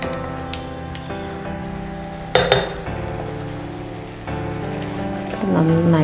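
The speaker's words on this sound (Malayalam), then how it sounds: "കുറച്ച് വെള്ളം കൂടെ ഇതുപോലെ സ്പ്രിങ്കിൾ ചെയ്ത് കൊടുക്കാം." Water sprinkled onto bhuna mutton frying in a pan brings a spattering, rain-like crackle, with sharp metallic clinks of a spoon against the pan and a louder burst of sizzling near the end.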